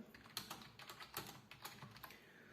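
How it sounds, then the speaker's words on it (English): Keys clatter on a wireless keyboard in quick, uneven bursts of close, quiet clicks, typed into a notepad with no voices. "So let's try to type something over here."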